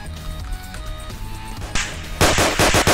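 Gunfire in the Roblox video game: after a quieter stretch with a few isolated cracks, loud rapid bursts of shots fire close up near the end.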